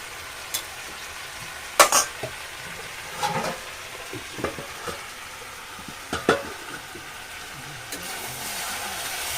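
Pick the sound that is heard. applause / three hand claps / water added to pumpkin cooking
water added to pumpkin cooking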